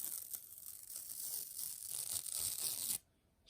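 Protective plastic film peeled off a new Edifier R1280T bookshelf speaker, a close, steady crackling rip lasting about three seconds before stopping abruptly.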